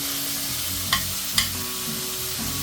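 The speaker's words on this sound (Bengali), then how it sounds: "পেঁয়াজটা দিয়ে আবার কিছুক্ষণ এরকম নেড়ে চেড়ে নেবো পেঁয়াজটাকে একটু ভাজা ভাজা করে নেবো" Chopped onions fry in hot oil for a chicken stew with a continuous close sizzle, while a utensil stirs through them and gives two sharp scraping knocks against the pan.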